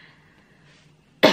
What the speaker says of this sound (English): This lip gloss always makes me cough.